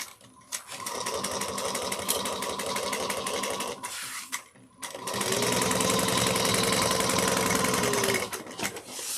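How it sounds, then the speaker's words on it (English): A sewing machine stitches a bucket bag at a narrow seam allowance, running loud and close in two long bursts of steady mechanical whirring separated by a short pause. "We're going to sew this at 1/8 of an inch."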